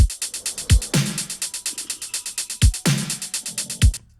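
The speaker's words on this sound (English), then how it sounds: "we also have a hat that without any effects is gonna sound something like this" Rapid, steady ticking of a dry synthwave-style drum machine hi-hat without effects runs throughout, joined by occasional low kick thumps and broader snare hits in a simple loop.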